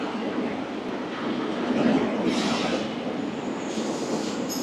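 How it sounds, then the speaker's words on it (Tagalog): A Rio de Janeiro train resembling a New York subway car rumbles steadily nearby, a broadband rolling roar that swells midway with faint high squeals near the end, no talking. "yung train nila dito, hawig sa train sa subway ng New York"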